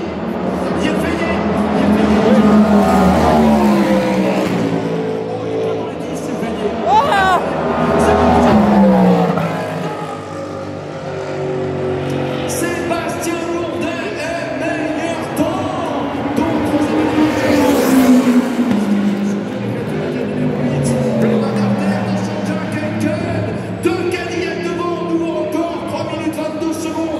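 Race cars, including a Ferrari, scream past during hyperpole qualifying at the 24 Hours of Le Mans, with engines rising and falling in Doppler sweeps as cars pass, under continuous excited commentary.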